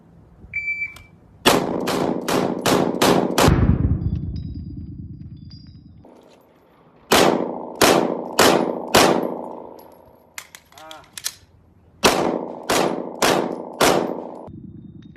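Sharp, loud gunshots at a tactical shooting training range come in quick bursts of four or five evenly spaced rounds, with ringing metallic clangs and short pauses between strings.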